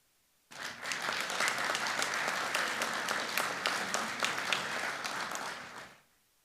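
Sustained applause for award recipients at a NACON 2024 committee session, a dense, steady wash of many hands clapping that starts abruptly, holds for about five seconds and fades out.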